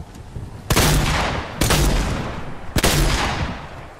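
Video game SMG firing in three loud bursts about a second apart, each a dense rattle of rapid shots fading into echo.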